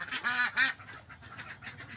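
Laying ducks on a duck farm give two loud, close honking quacks, followed by softer overlapping quacks and flock chatter.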